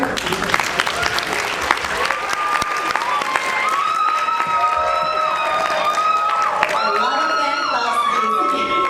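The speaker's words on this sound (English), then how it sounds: "please give her a round of applause and welcoming her" Audience applause welcoming a keynote speaker at a youth forum, dense and sustained throughout, with cheering and whoops mixed in and some crowd voices underneath.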